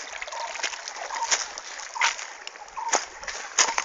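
Water flows through an old wooden channel made of bark, giving repeated splashing surges and trickles at an uneven rhythm, close by and moderately loud, with occasional voices nearby.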